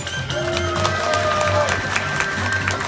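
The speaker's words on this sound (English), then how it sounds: "Please big applause." An audience claps at a Bali Safari animal show, a dense, steady outdoor patter of many hands that holds for a few seconds, with a faint tonal whistle above it.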